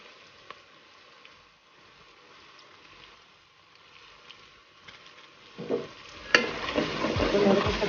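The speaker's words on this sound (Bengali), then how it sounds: "এদিকে নুডলসটা করে নেওয়ার জন্য আমি পেঁয়াজ আর তেলের উপর ভেজে নিচ্ছি" Onions frying in oil in a home kitchen for noodles; a low, quiet hum gives way to a loud, crackling sizzle that swells in the final two seconds.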